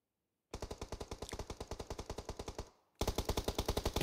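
M4 rifle fire in a PUBG-style video game match, two long rapid automatic bursts of evenly spaced loud shots, the first running about two seconds, a brief gap, then a second burst.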